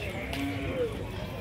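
Goats bleat faintly at a crowded livestock fair for goats and sheep in Canafístula de Frei Damião, Alagoas, Brazil. The short calls sit within a constant, noisy hubbub.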